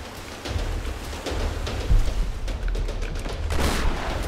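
Rushing whitewater from the Tomb Raider video game churns loudly and continuously, a broad noisy roar with low rumbling thumps and surging bursts, heard on its own without talk.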